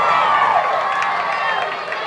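Crowd roar at a high school football game between LC and Aquinas, with a stadium PA microphone blaring nearby; a steady, loud wash of cheering voices holds for the whole stretch without letup.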